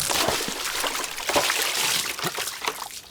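Mineral water poured, trickling and splashing steadily at close range with uneven bursts of liquid.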